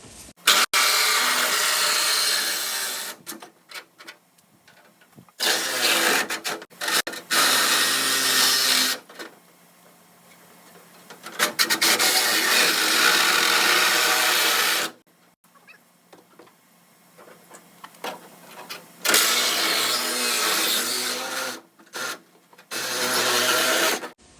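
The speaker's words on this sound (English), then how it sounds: "I'm gonna go grab my Sawzall now that I got a hole cut there." A Sawzall reciprocating saw cuts through car body metal on a 1969 Dodge Coronet project, loud harsh bursts of rapid buzzing several seconds long, separated by pauses of near silence.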